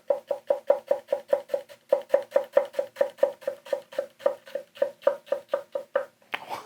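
A Kurogane santoku knife chops through an onion on a board, giving a steady run of about two dozen crisp, evenly spaced knocks at close range, with a short pause midway and no talking.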